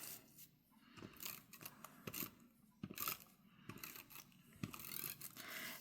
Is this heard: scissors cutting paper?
yes